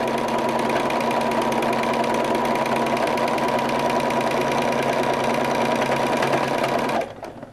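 Sewing machine stitching a quilted bag design, a steady fast whirring and rattling that runs loud and close for about seven seconds, then stops abruptly.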